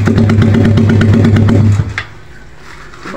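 A motorcycle fitted with a homemade 51mm open exhaust pipe idles loud and throaty with a pulsing rumble, then cuts off after about two seconds, very close.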